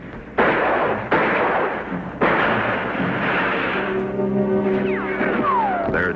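Wartime battle gunfire as riflemen fight over the approach to an airfield: three loud, heavy blasts in quick succession, followed by continuous rumbling combat noise and rising whining tones, with no speech.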